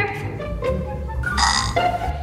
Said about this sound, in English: Time to burp.